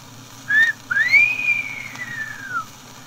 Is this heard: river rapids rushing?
no